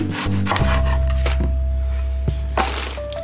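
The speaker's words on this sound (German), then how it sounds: "So, wir haben unsere Zwiebel, die schneide ich jetzt auf." Half an onion being sliced into thin slices with a knife on a board for a potato, broccoli and ham gratin: a few crisp knife cuts and rubbing scrapes with a low steady hum underneath.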